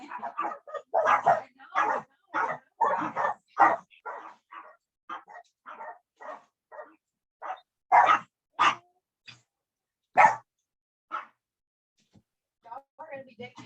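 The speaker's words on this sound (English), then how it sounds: "My dogs are probably fixing to bark." Dogs bark indoors at home in quick runs of sharp, close barks and yips, pausing and then starting again in bursts, with people talking around them.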